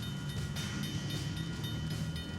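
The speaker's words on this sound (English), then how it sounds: "they're blocked by a passing train" A train rolls past at a level crossing with a steady, dense rumble and rattling wheel clatter, loud and continuous throughout with no voices.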